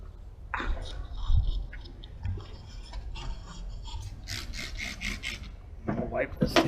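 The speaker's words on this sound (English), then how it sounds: "I think I can wet sand the little spots out." Wet sanding of small paint flaws on a flexible car bumper gives soft, intermittent rubbing strokes, quiet and close, with a few brief scraping bursts and short pauses between passes.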